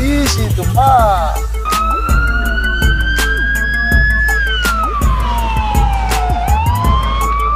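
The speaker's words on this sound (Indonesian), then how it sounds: "ada motor polisi" A police motorbike siren wailing loud and close, its pitch sweeping up and down in long glides over a steady low engine rumble, with rapid warbling bursts near the start and sharp clicking taps scattered throughout.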